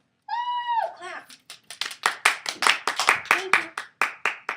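A short vocal whoop, then a few people clapping after the final bow of a staging of The Crucible, sharp close claps in an irregular rhythm.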